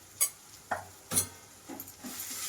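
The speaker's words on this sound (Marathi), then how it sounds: "ते सगळे मसाले आपण मस्तपैकी कांदा आणि टोमॅटोच्या मसाल्यामध्ये मिक्स करूया" A spoon knocks and scrapes in a pan while spices are stirred into an onion-tomato masala, giving a few sharp clinks spaced about half a second apart over a faint sizzle, close and fairly quiet.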